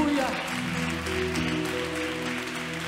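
Scattered applause at a church worship service claps under a sustained musical drone and murmured voices, moderately loud, with the clapping thinning out toward the end.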